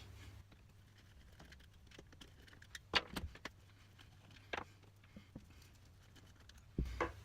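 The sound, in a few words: removing car shifter hold-down bolts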